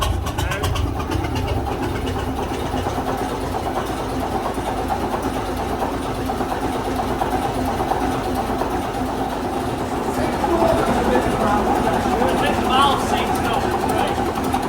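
A 1936 National Oil and Gas 6RV diesel engine idles with a steady low throb and rattling mechanical churn, continuous throughout, with people talking faintly over it.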